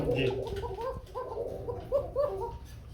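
Arabian kuka pigeons coo in a close, repeated run of soft rolling calls, several in quick succession under light background noise.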